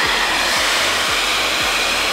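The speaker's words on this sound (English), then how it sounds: "the guy also had his hair dryer going, so maybe we'll add a little bit of that" A hair dryer blows on resin-coated ramen noodles, a loud, steady, close whooshing roar with a low rhythmic flutter beneath it.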